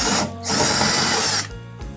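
Power drill backing out the screws holding the top cover of a Super General 10kg washer dryer, two steady whirring bursts of about a second each, close and loud, separated by a short pause.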